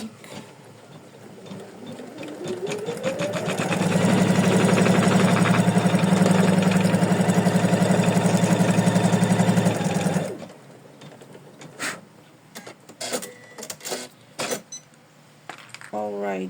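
An embroidery machine stitching an applique on an in-the-hoop cozy house ornament runs up to a steady fast mechanical whir and rattle, holds for several seconds, then stops, followed by scattered handling clicks and taps.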